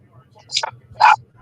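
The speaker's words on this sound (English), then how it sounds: "What are you barking about?" A single dog indoors gives two short, sharp barks about half a second apart, close and fairly loud in an otherwise quiet room.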